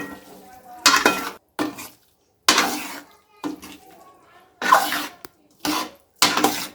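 Potatoes being stirred in a pan for spicy Gujarati garlic bhungara bateta, heard as several short bursts of scraping and clattering separated by quiet pauses.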